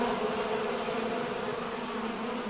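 Honeybees hum in a steady, dense drone at a hive of a colony with drones and laying worker bees, close and continuous without any voices.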